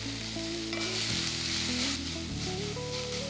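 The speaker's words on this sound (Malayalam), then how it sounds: "അണിയൻസ് നന്നായിട്ട് സോഫ്റ്റ് ആകുന്ന വരെ വഴറ്റിയെടുക്കാം" Onions sautéing with salt in a pan for a coconut chicken curry, giving a steady, dense sizzle with occasional stirring, under loud background music throughout.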